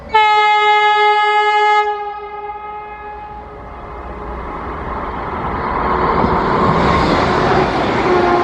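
A Solapur-Mumbai Vande Bharat train sounds a loud, sustained multi-tone horn for about two seconds, then rushes past at speed with a swelling rumble and roar.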